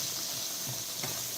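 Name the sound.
sauteing chopped vegetables in a pan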